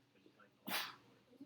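A single sharp sneeze bursts out mid-sentence in a classroom lecture, loud and close, with a voice talking quietly before and after it.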